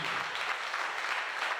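A church congregation at a Sunday service breaks into brief, dense applause, a broad continuous clatter of many hands from across the room, filling the short moment without pause.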